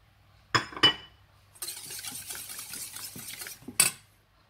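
Whisk or spoon beating egg and oil together in a mixing bowl for banana walnut cake batter, with a couple of sharp utensil clinks and then a brisk, steady scraping and stirring rhythm, close and alone.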